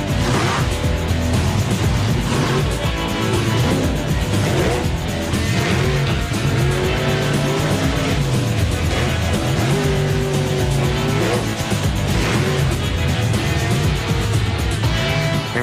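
Bigfoot monster truck engine roars continuously through a freestyle run, loud and strained, with revving swells, tire squeal and crowd-like wash filling the arena throughout.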